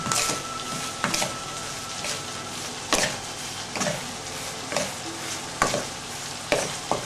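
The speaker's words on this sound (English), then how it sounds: "When you don't hear the noise of the sugar anymore, it means you have mixed enough." Continuous sizzling from a hot pan with regular scraping strokes as pad thai is stirred and tossed with sugar, a steady frying hiss underneath.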